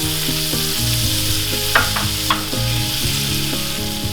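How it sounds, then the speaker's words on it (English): Peppers and onion saute in butter and olive oil, giving a loud, steady sizzle and crackle throughout, broken by a few stirring scrapes and clicks and with no voices. "I'm gonna add in our peppers and our onion. We're gonna saute these for about 5 minutes."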